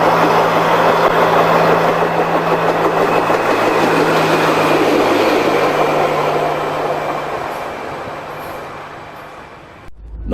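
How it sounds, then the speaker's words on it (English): Diesel Railcar 42 runs past on a country line, a loud sustained diesel engine drone with steady low hum and rail rumble that gradually fades as it moves away, then cuts off. "Diesel Railcar 42 makes its second appearance for the day at 10:20 with the 940 ex-Seymour chocolate service"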